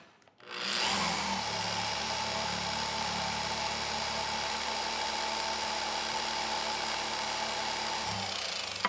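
A Maxshine M15 Pro dual action car polisher whirs steadily at close range, a continuous high-pitched motor hum that starts up after a brief moment and holds even throughout.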